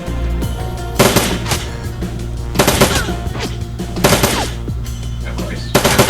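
Turret gunfire in Shadowrun: Dragonfall comes in repeated bursts of rapid shots, loud and close, separated by short pauses over a steady low background hum.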